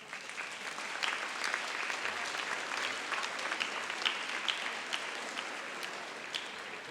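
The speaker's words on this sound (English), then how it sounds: "You need to give them a round of applause." Sustained applause from a crowd at a 2019 middle school graduation ceremony, a steady wash of many hands clapping at moderate distance with a few sharper individual claps standing out.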